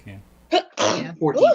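One short sneeze bursts out amid a tabletop game session, followed by people talking briefly.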